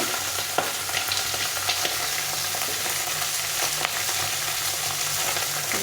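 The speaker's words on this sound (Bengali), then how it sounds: "মাছটা ভাজা হচ্ছে" Pieces of fish fry in a small amount of oil in a pan over lowered heat, giving a continuous close hiss and crackle with no talking.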